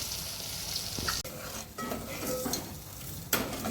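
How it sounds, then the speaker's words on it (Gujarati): Dabeli masala with sugar and salt being stirred in a pan over heat, a soft continuous sizzle with scraping spoon strokes and occasional metallic clinks against the pan, close up and alone. "તો મસાલાને આપણે 5 મિનિટ સુધી આ રીતે હલાવતા રહીશું"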